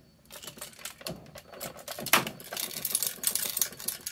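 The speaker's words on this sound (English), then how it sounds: "I don't know if you can hear that rattling" Small loose part rattling inside a Hello Kitty sleeping-in-bed digital radio alarm clock as it is shaken, a close run of irregular clicking, tapping and plastic knocks with no speech.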